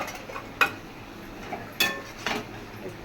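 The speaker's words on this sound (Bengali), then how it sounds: "নেড়ে ছেড়ে দিচ্ছি।" A utensil stirs food in a pot with a few distinct metallic clinks and scrapes against the side, spaced irregularly over soft background noise, close and fairly quiet.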